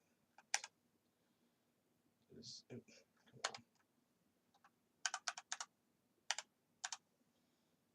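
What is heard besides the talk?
typing on a computer keyboard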